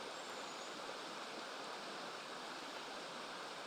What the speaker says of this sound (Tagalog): Ang ganda talaga pag nasa tabing ilog ka, oh. Alon pa lang, marirelax ka na.